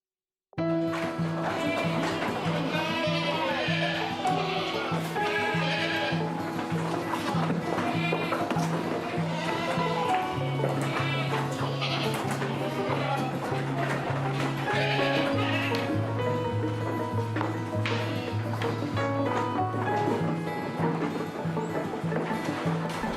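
Goats bleating on a goat farm, several loud overlapping calls rising and falling close by, with animal movement and background noise throughout.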